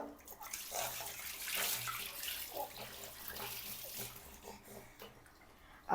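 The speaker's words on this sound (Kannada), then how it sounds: "ನೀರು ಅಷ್ಟೇ ತುಂಬ ಬಿಸಿ ಬಿಸಿ ಎಲ್ಲ ಏನು ಉಯ್ಯಲ್ಲ ನಾನು, ನಾರ್ಮಲ್ ಬೆಚ್ಚಗಿರೋ ಈ ಥರನೇ ಉಯ್ಯೋದು" Warm water is poured over a baby at bath time, a soft continuous splashing and trickling that stays close and fairly quiet, ending with a brief louder knock.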